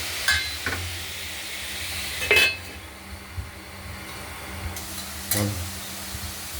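A spoon stirring a soft vegetable curry of chopped bharali in a pan with mustard tempering, a few scattered scrapes and clanks against the metal over a quiet background.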